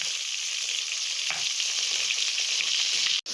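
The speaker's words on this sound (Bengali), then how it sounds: "এই দেখো এখানে আমাদের মাছ ভাজা হচ্ছে, নতুন কড়াই মাছ ভাজা হচ্ছে।" Fish fries in a new wok with a dense, continuous sizzle, close and loud, with a brief scrape near the start and a short dropout near the end; no one speaks.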